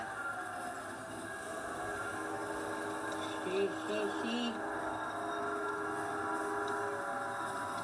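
A train rumbles into a tunnel in the Roblox video game, a steady low mechanical drone at modest volume with a brief voice-like tone partway through.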